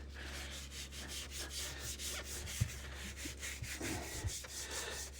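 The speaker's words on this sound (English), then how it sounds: "And just make sure you scrub it all." An old, worn steering wheel is scrubbed by hand in continuous rapid back-and-forth strokes, a soft close abrasive rubbing with a couple of faint knocks, no voices.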